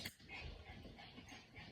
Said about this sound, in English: The dog is sure saying hi.